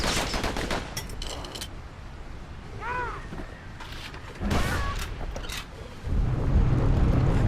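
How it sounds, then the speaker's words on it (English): Gunfire in the Bastion action game: bursts of shots and impacts amid busy game effects, with heavier blasts toward the end, no talk. "Gun like that can even put the wilds in check."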